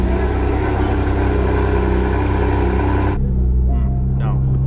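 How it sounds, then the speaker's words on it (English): A Porsche GT4 RS cold-starts and idles with a loud, steady engine roar on stock exhaust; partway through the sound shifts abruptly to a lower, quieter idle with some faint background noise. "a little bit of a cold startup on that, on the 4RS here"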